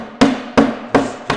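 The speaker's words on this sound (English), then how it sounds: "take your hammer here. Don't go crazy with it, all right? You're just tapping it to get it snug" A hammer taps a plastic wall anchor into a wall, four sharp, evenly spaced knocks in quick succession, close and loud with no voices.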